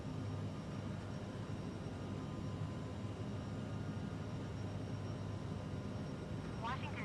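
Jet airliner engines in a flight simulator spool up for takeoff as a steady, broad, dense roar that holds constant throughout, with a brief faint chirp near the end.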